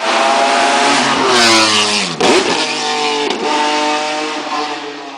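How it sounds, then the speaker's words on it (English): A naturally aspirated V12 in the BMW X5 Le Mans revs loudly and close, pitch climbing, dropping sharply between gear changes, then rising again in a smooth, high wail. "It was powered by a naturally aspirated V12"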